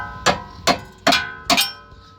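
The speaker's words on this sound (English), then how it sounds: "then we're gonna use the hammer" Four evenly spaced, loud metallic hammer strikes knocking out the front lower ball joint on a 2017 GMC Terrain 2.4, each blow ringing briefly in a garage, with no talking.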